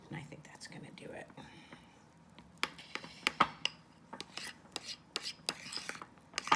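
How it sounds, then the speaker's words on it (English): A utensil scrapes and stirs red-tinted frosting in a bowl, making quiet, irregular rasping and clinking strokes that grow busier toward the end, with soft whispered voices underneath. "scraping your sides, mixing that color up really, really well"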